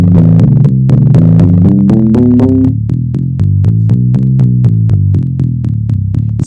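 A deliberately plain bass line walks through simple stepwise scales, its sustained, slightly buzzy notes rising steadily and then moving on in an even, continuous run with no pauses, heard alone and fairly loud.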